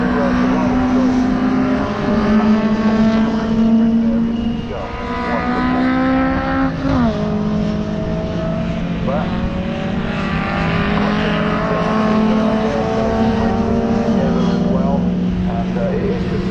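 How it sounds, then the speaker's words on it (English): Lotus 14 racing cars drive around the Donington Park circuit, engines droning loudly and continuously with rising and falling pitch as the cars pass, under steady commentary. "a whole host of these Lotus 14s, and of course they are just fabulous cars."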